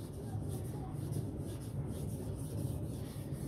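A custom Chinese cleaver of 52100 steel is sharpened at a very low angle on a stone, giving a steady close rasping rub with faint rhythmic strokes and no talk over it.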